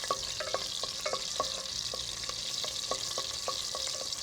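Green chilies fry in hot oil with ghee, a dense, bright, continuous sizzle with light clicks of a stirring spoon against the pan, close and without any voices.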